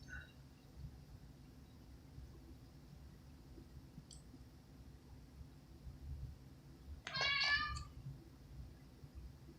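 A pet cat lets out a single short meow partway through, close by and fairly clear, over a steady low room hum with no talking.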